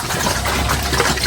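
Water gushes and splashes steadily on a farm while pigs are tended, a continuous close, noisy wash of liquid with no voices.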